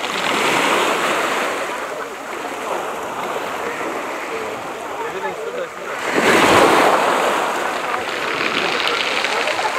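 Gentle Black Sea surf rolling onto the shore at a campsite beach near Ashe, Greater Sochi, a continuous close wash with one louder surge of a breaking wave partway through, and wind noise on the microphone.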